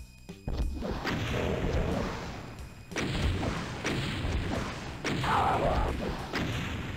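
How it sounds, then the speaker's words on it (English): A rocket launcher fires repeatedly in DOOM II, heavy booming launches and blasts recurring roughly every second or two over a dense, loud roar of game noise, with no talk. "I have no fear when I've got a rocket launcher on my side"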